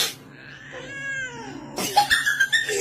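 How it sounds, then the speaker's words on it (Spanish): A cat meows in a long, drawn-out, wavering cry, followed by a few shorter, higher meows close to the listener. "Si tú tienes muchas ganas de hacer miau."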